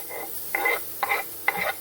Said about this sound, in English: Just fry them nice and quickly to caramelize.